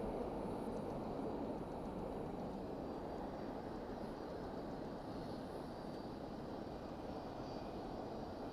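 An MD-11 airliner at DFW Airport at night, its engines giving a steady, broad roar that holds evenly throughout at moderate distance, with no talking.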